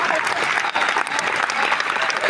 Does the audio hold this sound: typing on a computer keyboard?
no